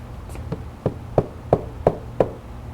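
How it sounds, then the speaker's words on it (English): Six sharp, evenly spaced taps of a small hammer strike in a steady rhythm, close and clear over a faint low hum. "So you take your little hammer,"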